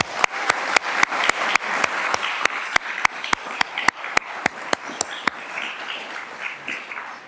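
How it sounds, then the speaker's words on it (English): An audience at a convocation breaks into applause, with sharp regular claps near the microphone over a wash of softer clapping from the crowd that thins out toward the end. "give Mike, who's not here with us this afternoon, and his team a round of applause"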